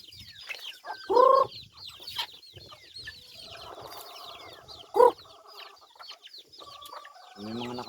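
A flock of chickens clucks steadily at a morning feeding, with a couple of louder squawks standing out and soft background chatter from the birds throughout.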